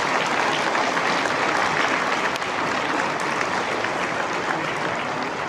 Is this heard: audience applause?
yes